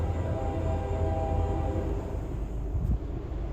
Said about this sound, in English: Hear the Hank Williams train?